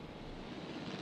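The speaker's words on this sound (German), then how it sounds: "Helikopter fliegen." Helicopters fly over a dinosaur park in the game Jurassic World Evolution, giving a faint, steady low engine drone with a soft, even rotor rumble and no talk during the brief moment.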